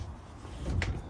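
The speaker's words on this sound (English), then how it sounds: "Pocket door, close that off." An RV bedroom pocket door in a 2023 Heartland Bighorn 37TB slides shut with a soft rolling rumble, ending in a brief latch click.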